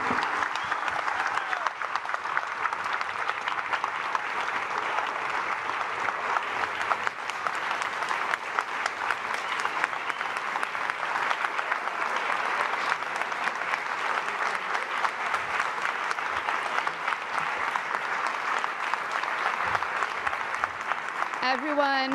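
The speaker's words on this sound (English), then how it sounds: "let's give a huge round of applause for this incredible leader" A large audience at a climate summit in New York keeps up dense, steady applause for over twenty seconds, a continuous wash of clapping that never fades, with no clear voices rising above it.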